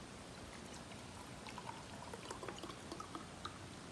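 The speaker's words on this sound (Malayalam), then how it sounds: "ഫസ്റ്റ് ഗൈസ് നമ്മളൊരു ഗ്ലാസ്സിൽ വെള്ളം ഒഴിക്കുന്നു" Water pours steadily into a glass with a soft gurgling trickle, small splashy bubbles rising toward the end, close and fairly quiet.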